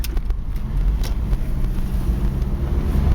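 A 1987 Nissan Vanette van with over 200,000 miles drives along, its steady low engine and road rumble continuous and close, with some wind buffeting at the microphone and no talking.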